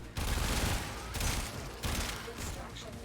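Dense, loud automatic gunfire fills a Warframe mission. Sustained bursts break off briefly twice and then resume.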